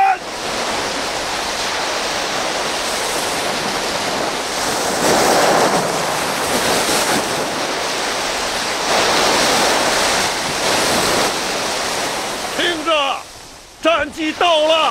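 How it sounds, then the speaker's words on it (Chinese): Strong wind and crashing waves at sea before a naval fleet sets out to cross the Taiwan Strait, a loud, continuous roar with surging swells that gives way near the end to brief voices. "此大风将连续刮5天5夜，助我们横跨台湾海峡"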